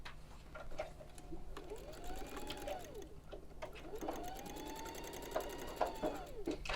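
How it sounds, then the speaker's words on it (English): A sewing machine stitches a tie jacket seam, pivoting at a corner, giving a faint, steady mechanical whir with repeated small clicks and ticks throughout. "Take one single stitch by turning the hand wheel, and then pivot 45 degrees again to start down the next side."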